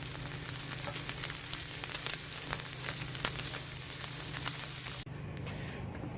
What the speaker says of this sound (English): Now we're going to give it a shot directly over the hot coals and see if that makes a difference here.